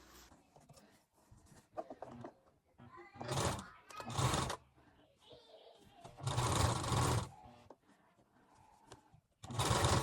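A domestic sewing machine stitches a ribbon belt onto a linen Elizabethan chemise in several short, close whirring bursts separated by pauses and handling noises.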